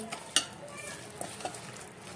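Marinated chicken lollipops being mixed with masala, lemon juice, coriander and mint produce soft wet squelches and a few light clinks against the bowl, close by and fairly quiet.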